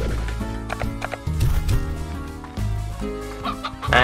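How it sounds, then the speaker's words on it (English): Chickens cluck in the Slime Rancher video game, several bursts of clucking layered over a steady game background, close and fairly loud. "Come here, little chicken."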